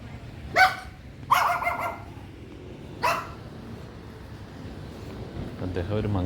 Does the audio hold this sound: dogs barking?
yes